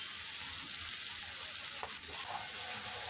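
Ground spice paste frying in oil for Bengali bata fish tel jhal, a steady close sizzle running evenly throughout with a faint scrape of stirring near the middle.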